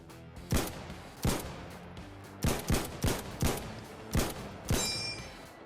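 M1 Garand rifle in Insurgency: Sandstorm firing about nine sharp, loud single shots at an uneven pace, with a metallic ping as the clip ejects at the end.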